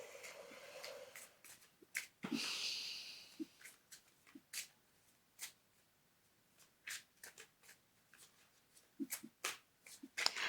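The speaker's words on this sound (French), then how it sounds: "On va tirer une dernière carte." Tarot-style cards are handled and a card is drawn from the deck: crisp slides, riffles and light taps, sparse and close in a quiet room.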